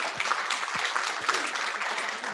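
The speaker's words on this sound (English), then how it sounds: "let's give Jennifer Ball a big round of applause" A university career-center audience applauds a guest speaker: a short, fairly quiet stretch of steady clapping from a modest crowd, with a few thumps mixed in.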